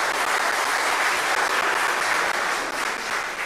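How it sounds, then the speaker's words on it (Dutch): Sustained audience applause fills a debate hall at a basic income teach-in, a dense, steady wash of many hands clapping at once with no voices over it. "Inderdaad, applaus."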